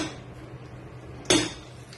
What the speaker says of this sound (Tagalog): Ngayon po natin ilagay ang butter.